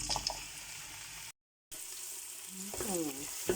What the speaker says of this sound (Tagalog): Now, while I'm cooking on the left side, I'm gonna fry this.